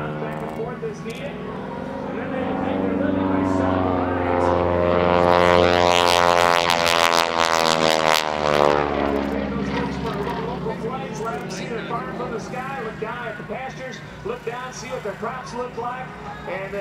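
A propeller airplane flying loops and rolls at an airshow in Janesville, Wisconsin in 2008 drones overhead, its engine pitch swelling as it approaches, peaking, then sliding lower and fading as it pulls away, with voices underneath.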